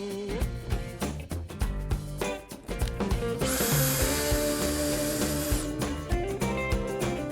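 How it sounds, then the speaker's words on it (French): A power screwdriver drives screws to fix MultiZap 2 Neo supports onto a wooden roof frame, heard as bursts of whirring under a busy layered background, with one long steady buzzing run in the middle of the clip. "Il suffit simplement de visser les appuis Multizap 2 Neo sur la charpente en utilisant les vis et l'embout de vissage fourni dans le kit"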